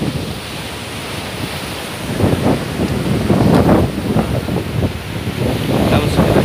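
Sea waves breaking and surging against a rocky shore with gusting wind buffeting the microphone, a steady roar building into repeated heavy wash bursts over several seconds.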